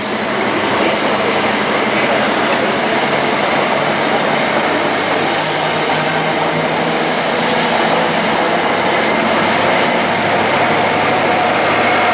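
Class 458 electric trains pass through Reading station, a loud continuous rushing roar of wheels and carriages with faint rail squeal, steady throughout with no talk.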